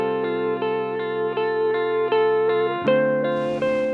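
A sustained synth tone with a slow, wavering pitch warble and gritty crunch, shifting to a lower note near the end.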